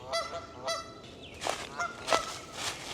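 Outdoor geese honk repeatedly near a garden of native plants, loud, close calls coming in quick, uneven bursts with no talking.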